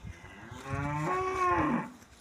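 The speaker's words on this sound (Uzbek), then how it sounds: "Rossiyskiy poroda sigirimiz mana sotiladi" A Russian-breed dairy cow, eight months pregnant and about 160 cm tall, lets out one long, loud, rising and falling moo close by, with no talking.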